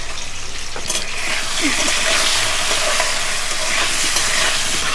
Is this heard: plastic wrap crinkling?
no